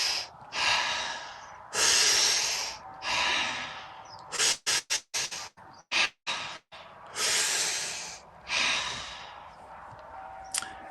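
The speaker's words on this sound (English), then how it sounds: "the flow that I want to go with today is a dopamine activation breathing." Rapid forceful breathing during a dopamine activation breathing exercise, long deep inhales and exhales followed by a burst of quick sharp puffs, then slower breaths again, close and breathy with no talking.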